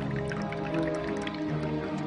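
Water trickles and drips steadily into the timing mechanism of a replica of Heron's thunder machine, a continuous close liquid sound with faint splashes and no talk.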